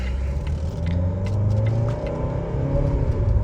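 The engine of a 2018 Volvo XC60 2.0 diesel automatic rumbles steadily as it accelerates on a highway, a continuous low drone close by with no voices.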